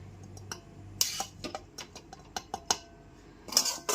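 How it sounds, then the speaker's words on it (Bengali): Semolina being stirred continuously in a pan over a low gas flame: irregular dry scraping and clicking of a spoon against the metal pan, sharp close taps at uneven intervals with quiet gaps between. "গ্যাসের ফ্লেমটা একদম লোতে রেখে সুজিটা ক্রমাগত নাড়াচাড়া করে এইরকম ঝরঝরে করে নিতে হবে"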